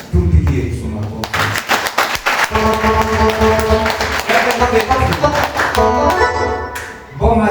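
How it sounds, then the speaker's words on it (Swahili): A church congregation claps together in praise of Jesus, a dense patter of many hands mixed with voices, music and cheering that carries on for several seconds. "Tumpigie Yesu makofi"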